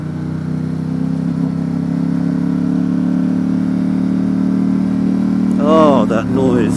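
A 2019 Ducati Diavel 1260 S with a Termignoni exhaust idles steadily with a deep, loud rumble, rising briefly near the end while someone speaks over it.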